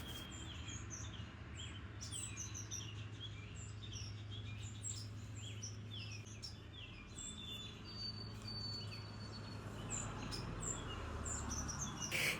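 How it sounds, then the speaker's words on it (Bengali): Birds chirp and tweet outdoors in a continuous chorus of short, high calls over a steady low background hum, moderately loud and close, with no talking. "আপনারা পাখির কিচিরমিচিরটা শুনুন।"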